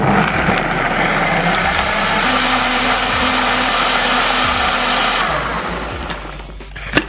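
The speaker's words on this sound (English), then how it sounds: "All right, I moved the blender back here." A blender whirs loudly and steadily for several seconds, then its motor winds down and fades near the end.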